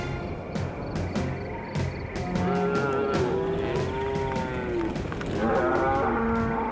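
Several grass-fed cattle on a large Colorado ranch moo one after another, long drawn-out lowing calls overlapping close by in an open outdoor setting, with no talking.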